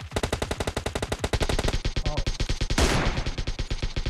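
Rapid automatic gunfire from PUBG Mobile, a dense string of evenly spaced loud shots running through the whole stretch, with a brief burst of louder impact noise near the end.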